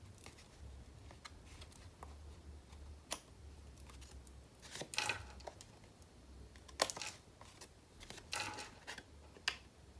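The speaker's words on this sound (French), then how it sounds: "Après, on n'a plus qu'à couper ce qui dépasse" Scissors trim printed paper for a handmade card, giving faint, sparse snips and crisp paper rustles spaced irregularly against a quiet room hum.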